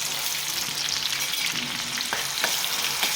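Spices sizzling loudly in a pan, with continuous frying crackle and brief stirring scrapes close up.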